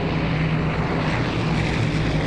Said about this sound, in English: when investigators study key pieces of wreckage from the DC-6, everything indicates that the plane was making a routine landing